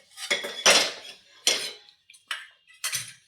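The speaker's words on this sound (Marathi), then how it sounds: "तीच कढई मी गॅसवरती परत ठेवलेली आहे" Several sharp metallic clanks and rattles of a metal kadhai being handled and set down on a gas stove, close and loud with quiet gaps between.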